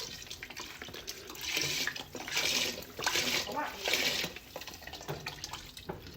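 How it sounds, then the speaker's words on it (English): Broth pours into a soup pot for Zuppa Toscana in a home kitchen, a steady liquid splashing that swells in three bursts and then eases off. "I'm going to add my broth"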